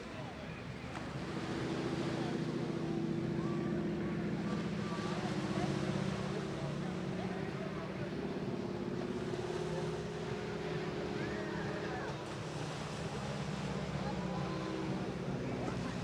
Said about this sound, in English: The sound you're hearing there from a Wasp radial engine producing 600 horsepower